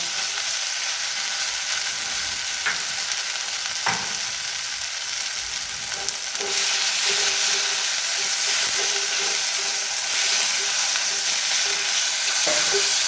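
Chopped tomato goes into a spice paste sizzling in hot oil for a pabda fish curry, producing a loud, steady frying hiss that swells midway, with faint utensil taps and no talk.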